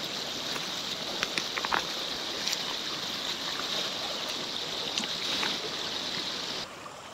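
A river flowing steadily over stones, a broad continuous wash of water with no voices, holding an even level throughout with a few brief splashy ticks.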